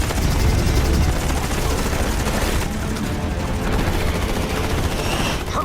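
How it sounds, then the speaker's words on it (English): Fighter jets (an F-14 against an Su-57) trade cannon fire in a Top Gun video game dogfight: loud, continuous rapid gunfire with heavy booming bursts over a constant engine roar, no voices. "Out of missiles! Switching to guns!"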